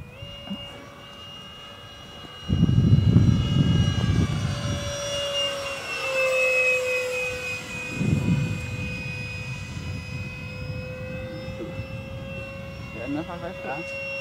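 An FMS Mirage 4000 RC model jet on its maiden flight at an outdoor field in Denmark, its steady high-pitched engine whine sweeping past as it flies overhead, with people talking close by throughout.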